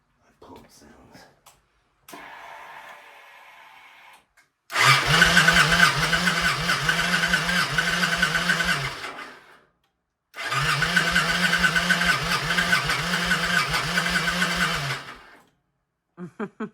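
Victory motorcycle with a long-unused engine cranking without firing: a brief pump whir, then two long rhythmic starter-motor grinding bursts of about five seconds each, close and loud, separated by a pause.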